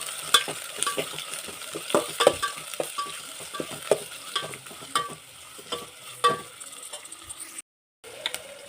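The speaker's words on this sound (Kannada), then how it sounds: "ಈಗ ಈರುಳ್ಳಿನ ಹಾಕ್ಕೊತಾ ಇದ್ದೀನಿ." Chopped onions fry in hot oil for egg biryani, giving a steady sizzle broken by frequent close, sharp spatula scrapes and clinks against the pan, with a brief dropout near the end.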